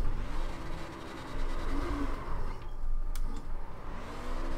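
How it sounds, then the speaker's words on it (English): A car in iRacing at Darlington revs its engine through a burnout, producing a steady loud roar with slight swells in pitch and a constant rumbling texture throughout. "How do you guys do burnouts here?"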